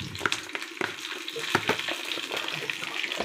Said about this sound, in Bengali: দিয়ে এটা হালকা ফ্লেমে আমি ভেজে নিচ্ছি।